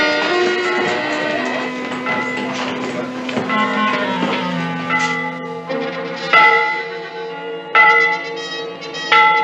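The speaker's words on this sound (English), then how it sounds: "It is a bell!" A church bell rings repeatedly with rich, sustained metallic tones, strikes overlapping and decaying before fresh clangs land near the end, in an Old West setting.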